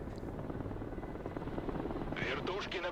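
A military helicopter in a modern war strategy game rumbles with a dense, steady rotor drone close by, and a voice talks over it toward the end.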